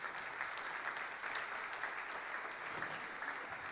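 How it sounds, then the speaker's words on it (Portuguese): A church congregation claps steadily during a sermon, with dense, continuous applause filling the room at an even level and no break. "Aplauda o nome de Jesus."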